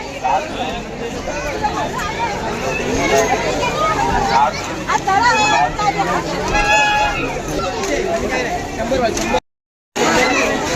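Dense hubbub of a large crowd at the Aai Bhavani temple fair in Govathane, Uran, with overlapping voices and chatter running steadily throughout, close and loud, broken by a brief dropout near the end.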